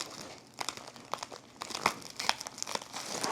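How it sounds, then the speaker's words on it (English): Cardboard packaging crinkles and tears during the unboxing of a DJI Avata 360 drone, heard as close, irregular bursts of rustling and ripping in quick succession without talk. "looks like I'm gonna have to do some more tearing"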